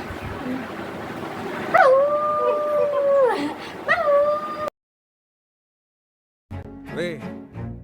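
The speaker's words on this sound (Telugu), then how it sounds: "dog sound" A dog howls in long drawn-out wails, two rising-and-falling howls close by, then a break of silence before a shorter whimpering howl returns.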